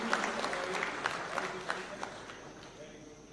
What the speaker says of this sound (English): Let's give them a warm, warm clap as they receive these awards kindly.